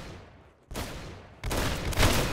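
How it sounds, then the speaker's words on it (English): Gunfire in the Roblox game Arsenal: rapid bursts of shots that swell in loudness, with a sustained barrage at the end, no talking. "Good shot! You got his head!"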